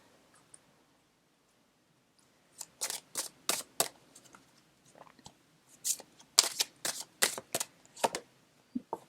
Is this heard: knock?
no